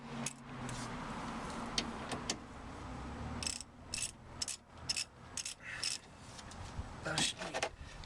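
Clicks and ratcheting of hand tools as bolts are tightened while a big brake kit is installed on a Honda Civic or Acura Integra, short metallic bursts coming and going with keys jangling.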